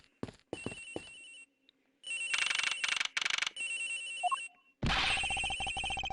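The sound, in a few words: phone ringing in the Ace Attorney Investigations video game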